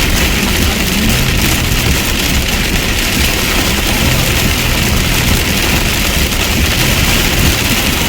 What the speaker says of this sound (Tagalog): Pero ulan lang no.